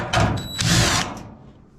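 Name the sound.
power drill removing screws from Maytag Maxima dryer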